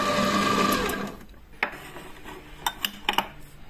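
A Silvercrest juice extractor from Lidl whirs loudly while juicing tomatoes, then shuts off after about a second, followed by a few sharp clinks and clicks.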